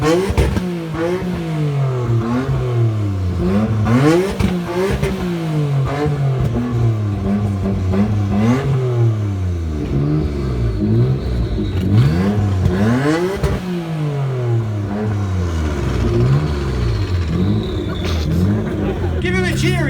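A car engine in neutral with the handbrake on revs hard and bounces repeatedly off the rev limiter, its pitch climbing and stuttering in loud, close bursts for the whole stretch, with voices faintly underneath.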